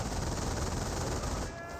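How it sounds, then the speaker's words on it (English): Dense, continuous machine gun fire in the World War II strategy game Company of Heroes, loud and unbroken for nearly two seconds. "Incoming gunfire. Hold steady."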